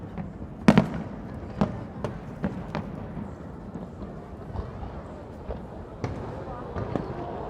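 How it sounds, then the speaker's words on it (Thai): New Year 2024 fireworks at Asiatique in Bangkok, heard from a distance: a scattered series of sharp booms and pops, one louder cluster early on, over a steady outdoor murmur with a voice talking. "ด้านหลังนี่เป็นพลุของเอเชียทีนะฮะ"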